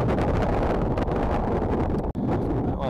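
Loud, continuous wind buffeting a microphone on a UK beach, a roaring rumble with only a brief dip in intensity.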